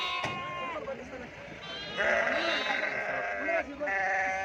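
Sheep bleat repeatedly at the Guduru livestock market, several calls rising over a busy background of people talking nearby.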